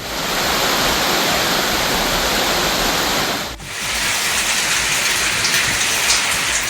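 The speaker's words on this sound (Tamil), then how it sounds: "வடதண்டலம் உள்ளிட்ட பகுதிகளில் பரவலாக கனமழை பெய்தது." Heavy rain pours down as a dense, loud, continuous hiss that briefly dips and resumes.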